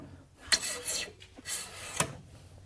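A hand saw cuts through wood for a dining table, giving a few rasping strokes with sharp scrapes at the start and end of each pass, fairly quiet and close.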